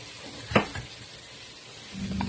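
Pancit miki ingredients sautéing in a pan, with a brief stirring clatter early on, then a steady sizzle building toward the end, heard up close.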